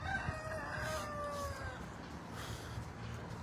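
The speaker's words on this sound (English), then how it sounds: "Pablo's messing with the chicken." A rooster crows on a bovine farm, a drawn-out cock-a-doodle-doo fading over about two seconds against steady outdoor background noise.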